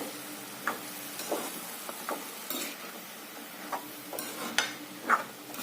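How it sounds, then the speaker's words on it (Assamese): Jackfruit seeds fry in a pan with a low steady sizzle, and a spatula scrapes and clinks against the metal every second or so in sharper, close strokes. "এইখিনি অলপ সময় ভাজি ল'ম ভালকৈ।"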